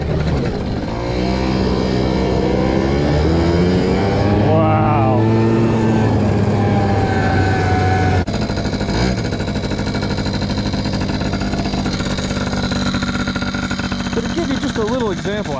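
A Yamaha 4 Zinger YT60 ATV with an automatic two-stroke 60cc engine runs close by with a buzzing, revving drone, while someone talks loudly over it.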